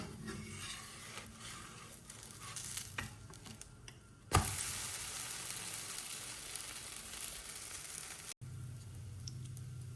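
Dosa frying on a hot pan, one side browned before being flipped: steady close sizzle with scraping and a sudden flare of hiss at the turn, then quieter frying.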